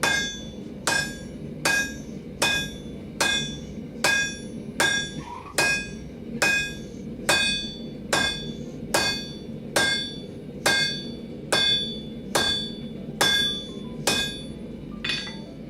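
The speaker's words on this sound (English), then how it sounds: "You're the hammer I'm using for this piece." A blacksmith strikes hot steel while forging S-hooks for a firepit, ringing hammer blows landing in a slow, even rhythm, each with a bright metallic clang, roughly fifteen strikes and no talk.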